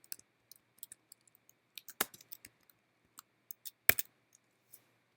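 Someone types on a computer keyboard while coding HTML, producing sparse, quiet, close keystroke clicks with two sharper, louder key hits and no talking.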